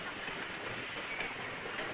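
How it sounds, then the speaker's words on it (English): A train runs steadily along rails with a continuous broad rumble and roar, a constant even drone at moderate loudness with no distinct clacks standing out. "Train?"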